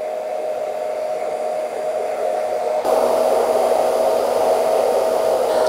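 A hair dryer blows steadily on a man's freshly cut hair, a close, continuous whirring hum that grows louder partway through as it moves nearer.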